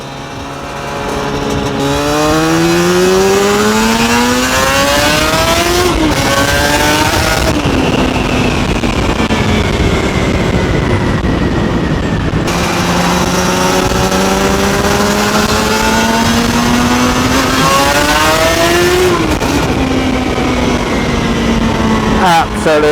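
Suzuki RG500 two-stroke motorcycle engine on a night ride, revving loud and close throughout, pitch sweeping up through repeated gear changes with brief drops between shifts, steady high-intensity drone over wind.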